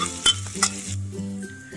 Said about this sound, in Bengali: এবার মধ্যে পেঁয়াজগুলো দিয়ে ভালো করে ভেজে নেব।